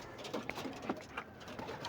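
Pigeons kept on a rooftop coo in soft, low bursts, several calls spaced irregularly over a quiet background with no talk.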